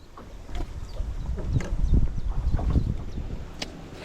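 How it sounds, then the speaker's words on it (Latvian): Strong, gusty wind buffets the microphone while out fishing, a rough low rumble with irregular thumps and surges throughout, no talk. "Te ir pārāk traks vējš"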